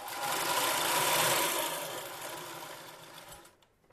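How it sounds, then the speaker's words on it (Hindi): A pico sewing machine stitches with a dense, continuous mechanical whir that holds steady, then winds down and stops near the end. "ये देखिए ये इस तरीके से सिलाई करती है"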